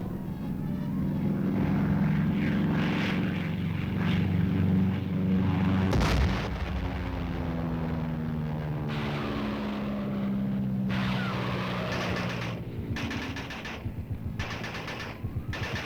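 Heavy aerial bombardment in the Korean War: droning aircraft engines under rattling gunfire and deep booms, with a sharp blast about midway, sustained and loud throughout.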